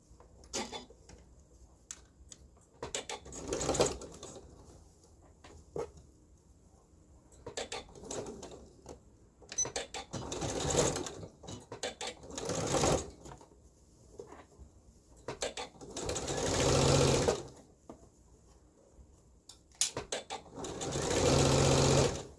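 Sewing machine stitching fabric and elastic on a shoulder seam, running in several bursts of rapid mechanical whirring and clatter separated by short pauses, close and fairly loud with no talk.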